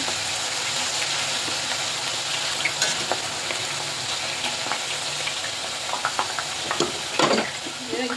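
Potato chips sizzle and crackle steadily in hot oil, a dense continuous frying hiss with occasional sharper pops and spatters standing out near the end.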